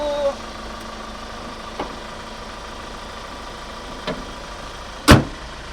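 A Hyundai Grand Starex five-seat van engine idles with a low, steady hum, broken by a few faint clicks and a sharper knock near the end.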